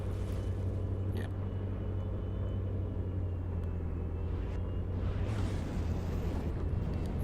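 Torpedoes detonate against a vessel in From the Depths, heard as a continuous heavy underwater rumble with a low droning hum and a few muffled bursts rising over the constant roar.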